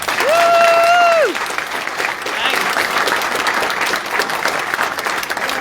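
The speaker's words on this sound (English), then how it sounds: "Let's give both of them a big round of applause." School board meeting audience applauding two wrestlers, a steady room-filling clapping that runs the whole stretch, opening under a brief held speaking voice before carrying on alone.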